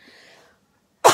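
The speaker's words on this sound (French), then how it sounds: "Est-ce que j'ai le droit de dire que c'est presque gênant de tousser?" A single loud cough bursts out alone at the end, after a stretch of faint low rustling and near-silence, recorded indoors during a paper card-making craft session.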